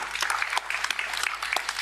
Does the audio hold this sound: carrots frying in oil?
no